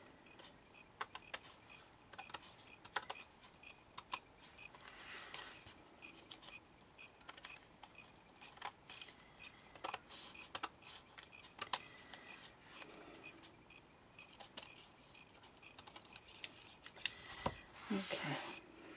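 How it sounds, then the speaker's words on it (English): Scissors trim around the edges of fabric with a long series of quiet, irregular snips and clicks, close by, with faint rustling of the cloth in between. "I'm just going to trim around the edges."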